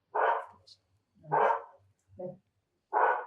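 A small dog barks four times in separate sharp bursts, close and fairly loud, with short quiet gaps between barks.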